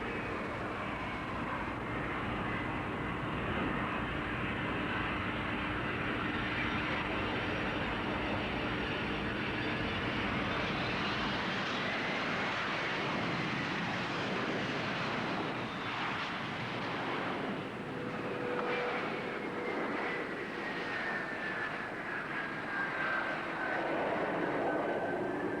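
Airbus airliner engines roar steadily at a 1984 air show, a continuous broad, heavy rumble and whine that holds for the whole stretch.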